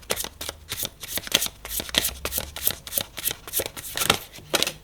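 Tarot cards being shuffled and cut by hand, a steady run of close, crisp riffling slaps and flutters repeating in an even rhythm with no voice over them.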